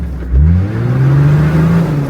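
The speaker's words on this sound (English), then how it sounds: "I tried to free the vehicle by rocking it back and forward, but it immediately became clear that this was stuck fast" A Toyota Land Cruiser engine revs hard with a steady rising-and-holding drone, close and loud, as the vehicle sits stuck in deep, bottomless Galician mud, with no talking.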